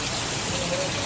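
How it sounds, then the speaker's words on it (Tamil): Heavy storm rain in Mumbai pours in a dense, steady broadband roar that fills the short stretch without a break. "பயங்கர மழை."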